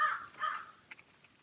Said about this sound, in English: Even the crows are up.